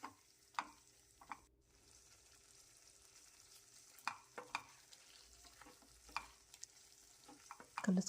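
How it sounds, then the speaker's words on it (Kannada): Tomatoes frying in a pan for pudina tomato chutney, a soft steady sizzle with occasional sharp scraping stir strokes near the mic, no voices. "ಈ ರೀತಿ ಫುಲ್ ಟೊಮೊಟೊ ಸಾಫ್ಟ್ ಆಗೋ ತನಕ ಫ್ರೈ ಮಾಡ್ಕೋಬೇಕು."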